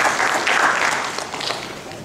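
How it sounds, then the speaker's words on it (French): An audience at a formal academic law conference applauds, a dense, steady patter of many hands clapping nearby that fades slightly toward the end. "Sous vos applaudissements"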